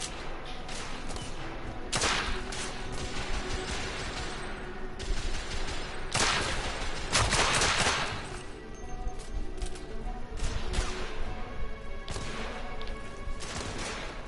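Rapid gunfire from shooting enemies in a video game, dense bursts of shots cracking over a steady background, loudest around the middle with a few sharper reports scattered throughout.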